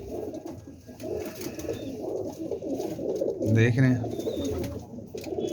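Golden pigeons kept by a fancier give a soft, low cooing call near the microphone amid general aviary noise, with someone talking over it.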